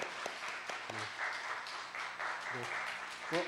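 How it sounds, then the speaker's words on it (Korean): Applause from the congregation at a church youth worship service, a steady wash of clapping with voices talking over it. "우리 뜨거운 박수 부탁드리겠습니다"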